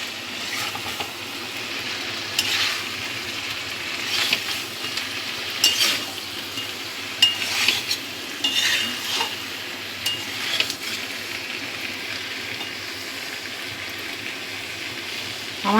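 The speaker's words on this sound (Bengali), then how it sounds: "ধনেপাতা কুচিটা দিয়ে একটু মিশিয়ে দেবো।" Chopped coriander is stirred into Amudi fish chorchori simmering in a pan, giving a continuous soft sizzle with scraping strokes and light clinks of the spoon against the pan.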